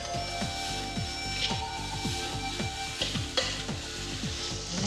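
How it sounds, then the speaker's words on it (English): Ground candlenuts, fresh turmeric, diced shallots, garlic and blended chilli sizzle steadily in a hot pan, with a regular scraping rhythm of stirring running through the frying. "Aunty Wahwan starts by frying ground candle nuts, ground fresh turmeric, diced eschalots, garlic and blended chilli."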